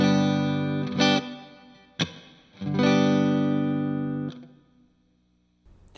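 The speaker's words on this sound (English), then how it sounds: "Do you hear that reverb?" An electric guitar played through an Orange Crush 35RT amp on the clean channel with reverb, single chords ringing out and decaying with a lush reverb tail, close and fairly loud, with pauses between strums.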